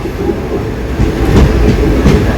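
An intercity express train rumbles loudly along the rails close by, wheels clattering in a clickety-clack rhythm, with no voices.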